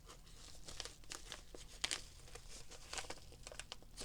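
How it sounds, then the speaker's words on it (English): Crinkling and tearing of plastic packaging, close and quiet, in irregular bursts of crackles and rips. "I guess I'm too old to rip these packages open."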